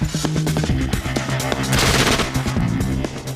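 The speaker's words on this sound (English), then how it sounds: "The fully automatic submachine gun is another short-range weapon that comes into its own in close-quarter combat. Fire one on full auto" A fully automatic submachine gun firing continuous full-auto bursts, loud and dense rapid shots that run nearly the whole time, close by, with no talking.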